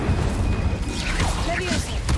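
Incendio fire spell cast in the Hogwarts Legacy video game, heard as a steady, loud roaring whoosh with swirling effect sounds, while a voice speaks over it.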